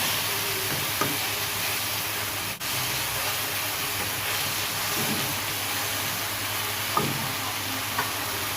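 Grated bottle gourd halwa with sugar and cardamom powder stirred in a hot pan, a steady close sizzle and hiss with a few soft scraping strokes of the spoon, no talking.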